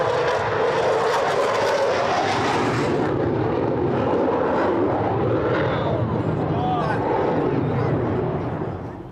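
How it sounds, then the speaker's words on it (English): A Royal Air Force Typhoon fighter jet roars past at an air display, a loud, steady engine rumble that fills the whole stretch, with faint voices beneath it. "So you can hear the volume increasing from the right-hand side. I give you Royal Air Force Typhoon."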